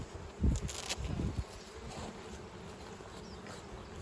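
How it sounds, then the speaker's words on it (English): Honeybees from a newly installed nuc buzz close by while searching for a new home, a steady insect drone with louder passes as bees fly near, over a quiet outdoor background. "the bees are trying to find a new home. So we got bees everywhere"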